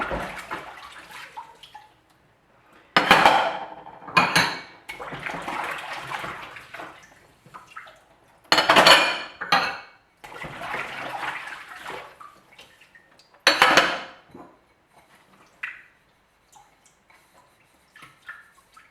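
Dishes and cups being washed up in water with an ENJO cloth: irregular splashing and sloshing bursts with pauses between them, close and fairly loud, with no talking.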